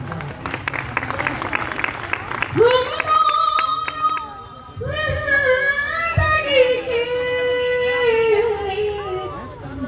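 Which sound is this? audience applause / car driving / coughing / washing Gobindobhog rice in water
audience applause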